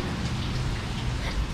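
Steady rain pours down around a truck, a dense continuous patter of drops on surfaces, close and fairly loud with no voices.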